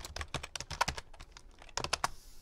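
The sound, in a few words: typing on a computer keyboard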